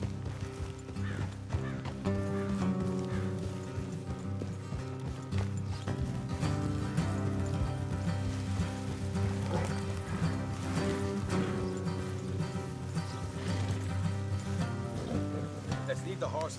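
Horse hooves in Red Dead Redemption 2, a steady clip-clop of several horses riding along a road under game music, with an occasional whinny in the mix.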